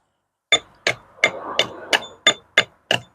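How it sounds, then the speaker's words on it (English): Old mortar is chiselled out of a brick joint with eight sharp, evenly spaced hammer strikes ringing close by, each a crisp metallic knock with no talking. "then break away the mortar."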